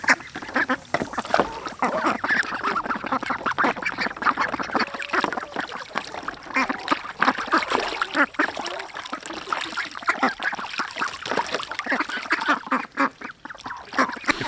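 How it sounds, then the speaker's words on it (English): Ducklings quack busily and continuously in a backyard chicken yard as water fills a kiddie pool, a dense, steady chatter of close calls with splashy background noise throughout. "filling up the kiddie pool for the ducklings"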